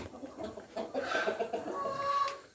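Local village chickens and roosters clucking near a taekwondo training hall, a steady stream of close, busy clucks and calls across the whole stretch with no talk over them.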